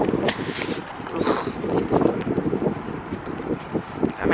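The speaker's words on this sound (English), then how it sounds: "it's raining and it's windy" Steady gusting wind roars across an open microphone outdoors in the rain, with a broad rushing texture and irregular buffeting.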